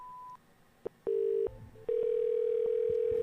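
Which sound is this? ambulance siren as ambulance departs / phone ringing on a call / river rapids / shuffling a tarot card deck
phone ringing on a call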